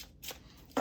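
Cards of a matte black tarot runic oracle deck with matte-finish edges being shuffled, soft papery riffling swishes ending in a brief sharper flutter, close and quiet.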